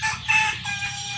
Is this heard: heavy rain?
no